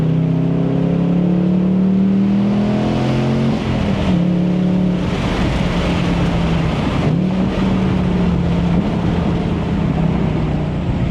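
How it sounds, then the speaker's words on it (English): A Ford Mustang Dark Horse carries a steady droning engine note, then dips and surges as it downshifts and revs through a corner, loud and continuous inside the car, with no voices. "Let's get some downshifts around this corner here."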